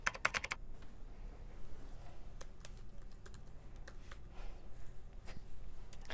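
Computer keyboard being typed on to enter a web address, rapid close clicking keystrokes in quick bursts with brief pauses, alone against quiet background.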